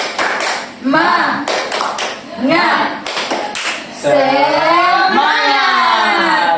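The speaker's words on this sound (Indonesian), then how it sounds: "Tepuk semangat" Classroom of students doing a rhythmic spirit clap in a math lesson, sharp clustered clap bursts in a patterned beat alternating with children's voices calling out, ending in a rising sung or chanted shout.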